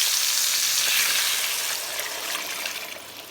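Aromatic vegetable garnish tipped into a hot pot for a chicken pot-au-feu, giving off a loud steady hissing sizzle that fades slightly over the few seconds.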